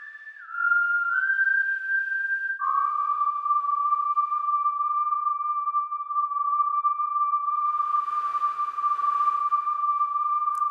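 A breathy whistle tone holds long sustained notes, stepping down in pitch early on, with a soft burst of airy hiss later, clear and solo.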